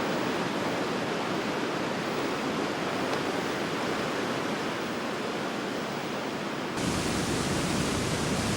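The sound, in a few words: rushing river, tributary of the Amazon at São Gabriel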